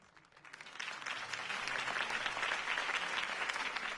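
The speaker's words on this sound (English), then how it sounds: "could have heard that applause" A crowd in the video game Batman: The Telltale Series breaks into applause, swelling from quiet to a full, sustained clapping roar that holds steady.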